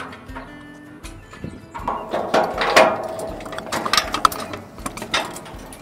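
Metal jacks clank and knock as they are set onto the jack mounts of a squeeze chute during wheel kit assembly, a series of irregular close metallic bangs and scrapes, loud and uneven.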